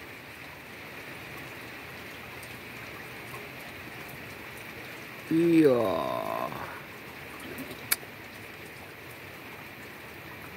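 Steady rain hisses over the Jatigede reservoir on an overcast day, a constant soft wash of falling drops, with a brief louder rustling sweep in the middle and a short spoken word.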